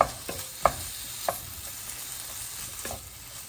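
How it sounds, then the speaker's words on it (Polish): Smoked bacon fries in a pan with a steady, hissing sizzle. A few sharp clinks and stirring knocks sound over it, and nobody speaks. "Teraz boczek wrzucam na patelkę i będę podsmażał."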